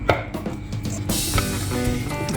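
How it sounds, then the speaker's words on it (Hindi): Spoon mixing homemade cream cheese in a bowl, a steady run of close scraping and clinking strokes with no talk. "इसको मिक्स कर लें अच्छी तरीके से एक दफ़ा स्पून की मदद से"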